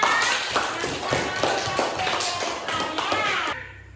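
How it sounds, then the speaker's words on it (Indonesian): Schoolchildren in a classroom clap for a classmate, a busy patter of many small hands with voices mixed in, cutting off abruptly near the end. "Tepuk tangan untuk temanya"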